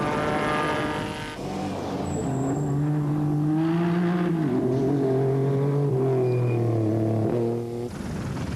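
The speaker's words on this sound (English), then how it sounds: "The V6 petrol engines of the Mitsubishis powering them across the sand" Mitsubishi V6 petrol rally cars race across desert sand on a Paris–Dakar stage, engines rising and falling in pitch as they rev and pass, loud and continuous, with some gear-change dips and no talking.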